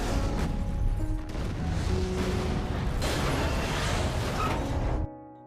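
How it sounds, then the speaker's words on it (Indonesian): A train explodes in the film Source Code, a loud, sustained roar of blast, crashing debris and grinding metal that rumbles heavily for about five seconds before cutting off abruptly. "Namun sayang disayang, kereta pun meledak lagi."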